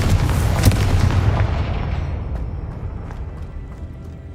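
A Confringo fire spell explodes in the Hogwarts Legacy video game, a loud, close blast with a deep boom that fades into a long rumbling decay and scattered crackles, with no talking.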